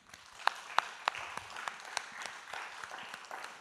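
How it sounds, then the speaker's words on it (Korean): Church congregation applauding during a Sunday evening service, a few distinct claps standing out early before the room settles into scattered, moderate clapping over a reverberant background. "위로와 격려의 박수를 우리 한번 쳤으면 좋겠습니다."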